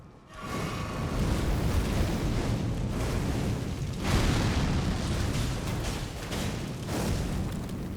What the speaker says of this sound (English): I didn't realize Rancor shot was basically a tracking barrage